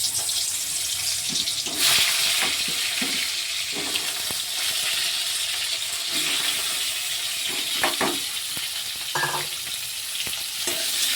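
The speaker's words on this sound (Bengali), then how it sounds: "আমি এবার অল্প অল্প করে পটল এই তেলের মধ্যে ছেড়ে দেব।" Turmeric-and-salt-coated pointed gourd (potol) pieces sizzle in hot oil, a close crackling hiss with spatter bursts and occasional scraping or stirring clatter, no voices.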